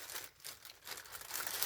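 Soft crinkling of a plastic bag as foam for gilding flakes is packed away, a faint, continuous rustle close by with small uneven swells and no voices.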